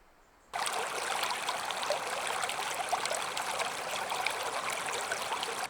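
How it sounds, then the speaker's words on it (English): A shallow river running low after a hot summer, its water trickling and babbling over stones in a close, steady wash that starts abruptly and continues unbroken without voices. "I'm down by the river now, and I can't believe how little water there is actually in the river."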